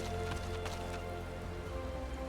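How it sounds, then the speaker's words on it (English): Rain falling in Gardania in the VR game Final Fantasy XIV, a steady soft hiss of drops with a faint low hum beneath and no voices. "It's raining in Gardania right now"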